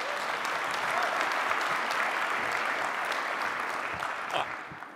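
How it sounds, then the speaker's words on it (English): A ceremony audience at an academic Hall of Fame induction gives a sustained round of applause, with full, continuous clapping from many hands that tapers slightly toward the end, plus a few sharper individual claps. "Can we give a round of applause to Lori?"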